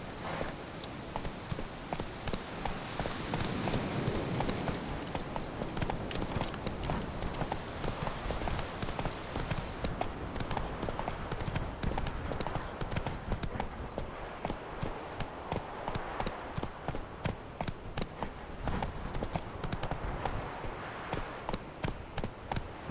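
Horse Roach galloping in The Witcher 3, a steady rapid clip-clop of hooves running close and continuous throughout, with a low rumbling game ambience beneath.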